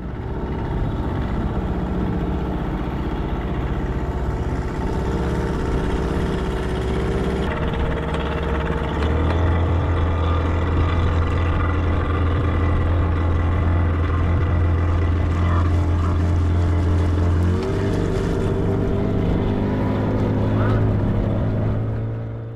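Motorboat crossing a coastal lagoon fringed with mangroves in Chiapas, Mexico; a loud, steady engine drone runs close and continuous the whole time, with water and wind rush over it.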